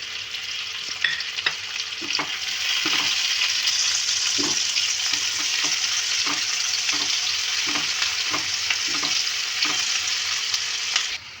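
Garlic and onions fry in a pan with a steady, loud sizzle running throughout, broken by occasional stirring scrapes and taps.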